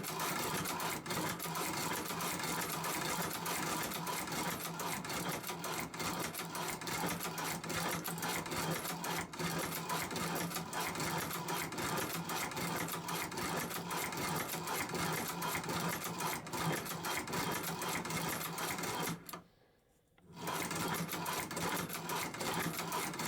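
A low-cost leather sewing machine runs continuously in a fast, steady needle chatter, close and even for about twenty seconds, with a brief stop before it resumes.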